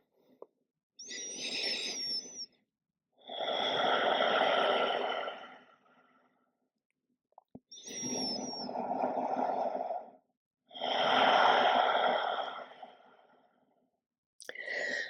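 Slow, deep breaths during a yoga child's pose, alternating long soft inhales and exhales with quiet pauses between, close and intimate.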